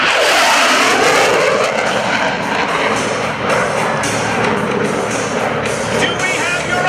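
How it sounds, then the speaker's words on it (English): A US Navy F/A-18C Hornet jet makes a high-speed pass at an air show, a loud, continuous roaring blast that fills the whole clip with only slight swells in intensity. "I present to you your United States Navy's A-18C Hornet"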